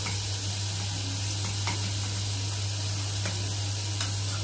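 Onion sautés in ghee for Egyptian fatta, a steady close sizzle and crackle with a few light scrapes of stirring, no talk.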